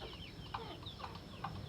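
A broody native village hen clucks softly in a steady series of short, low clucks, close by against a hissy rural background, with no talk.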